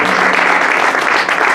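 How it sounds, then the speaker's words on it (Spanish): Loud, dense applause from a church congregation honouring the Lord during a Spanish-language sermon, a steady wash of clapping that fills the whole moment without pause. "Y también recibe en honor un fuerte aplauso."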